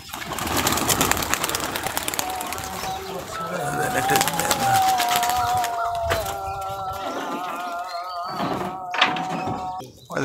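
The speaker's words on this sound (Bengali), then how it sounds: "বাচ্চাটা ফিক ফিক করছে।" A young giribaj high flyer pigeon chick squeaks in thin, drawn-out peeps amid shuffling and thumps, with a voice talking nearby.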